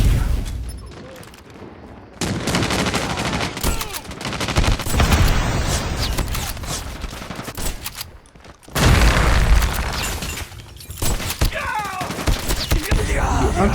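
Shotgun blasts and bursts of gunfire ring out loudly across a melee in a video game, with heavy booming shots and rapid volleys packed together and a brief lull near the middle.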